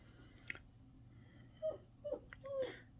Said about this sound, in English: That's my dog crying because he can't get the door open.